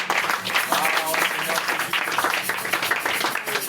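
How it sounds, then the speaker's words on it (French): A church congregation applauds and cheers for the Lord during a sermon on the resurrection, with dense, continuous clapping and voices that fill the room throughout. "Est-ce que tu peux acclamer pour le Seigneur?"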